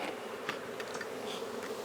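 A soft, continuous hum of many bees clustered on hive frames feeding larvae, buzzing close by, low and even, with no other sounds.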